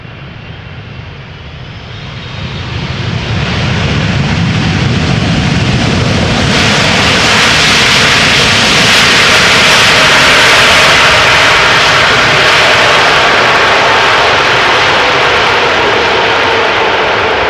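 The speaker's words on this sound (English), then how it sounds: "let's see how this 777 from China Southern Cargo will land," A China Southern Cargo Boeing 777 lands at Amsterdam Schiphol on a showery day, its jet engines swelling from a distant rumble into a loud, close, broad roar that stays strong and steady as the freighter passes.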